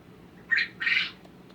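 Baby bobwhite quail chicks give two short, fairly loud squawks in quick succession, close by and without any talking.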